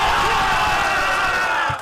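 A soccer stadium crowd roars in a dense, loud wall of cheering after a goal in a 6-0 win, sustained and close for a brief moment before dropping off slightly at the end.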